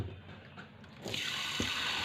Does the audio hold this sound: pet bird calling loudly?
no